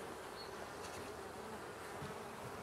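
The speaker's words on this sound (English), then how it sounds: "This is a rather tiny swarm." A small, tiny swarm of honey bees humming steadily, a dense continuous buzz close by with no voices.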